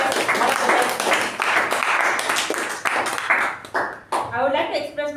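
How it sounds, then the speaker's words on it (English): Applause breaks out at a Toastmasters club meeting, steady clapping from a room of people over about five seconds, tapering off near the end as a voice begins. "let us give all of us a huge round of applause for making this meeting the best of the best"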